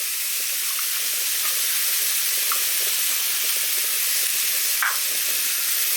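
Chopped onion sizzles steadily in a hot pan of lamb chop juices, a close, continuous frying hiss with a few faint pops and scrapes.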